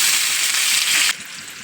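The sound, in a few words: chopped onion frying in hot mustard oil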